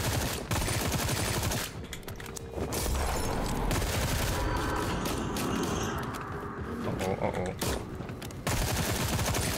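Rapid gunfire from a hunting rifle and other weapons in the zombie shooter Sker Ritual, with loud dense bursts and booms filling most of the clip and brief lulls between volleys.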